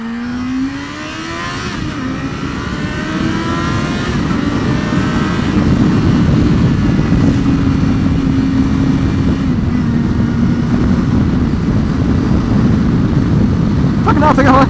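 A 400cc motorcycle accelerating hard on the road, its engine note climbing steadily with gear changes under strong wind roar, loud and close from the rider's position, with no voices.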